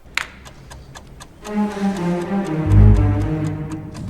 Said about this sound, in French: il n'y a que le son du tic-tac et un coup de violoncelle